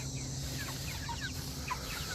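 Meat chickens by the coop cluck and chirp in short scattered calls over a steady hum, moderately near and fairly faint, with no talking.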